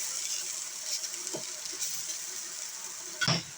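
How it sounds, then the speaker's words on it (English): Hash browns frying in butter in a pan give a steady, soft sizzle, with a couple of light clinks of a utensil against the pan, the louder one near the end. "See how beautifully golden brown that hash is getting."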